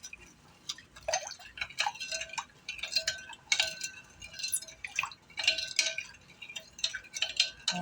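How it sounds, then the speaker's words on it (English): A spoon stirring brown sugar into hot water in a bowl, giving a steady run of light clinks and scrapes against the sides, close and quiet, with no talk. "Okay, I'm going to stir this together."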